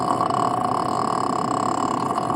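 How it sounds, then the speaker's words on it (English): A human voice makes vocal fry, a low gurgling, popcorn-like creak, crackling continuously for a couple of seconds at close range. "vocal fry is this sound"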